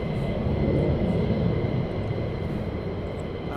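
Military jets taxi at RAF Lakenheath, producing a steady, loud, broad engine roar with a whining tone on top that eases slightly toward the end.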